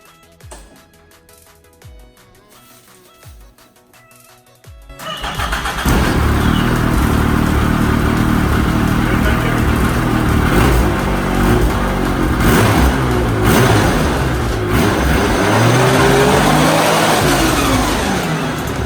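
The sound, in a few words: dirt bike engine starting and revving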